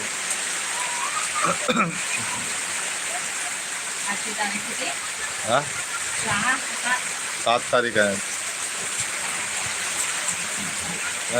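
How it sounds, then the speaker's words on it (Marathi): Heavy monsoon rain pours down as a steady, dense hiss throughout, with someone talking intermittently over it. "बघा मित्रांनो किती पाऊस चालू झालाय जोरदार पावसाने हजेरी लावले"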